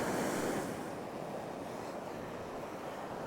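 Coastal wind and sea swell while fishing from the shore, a continuous broad rushing wash of surf with wind buffeting the microphone, steady and fairly close with no talking.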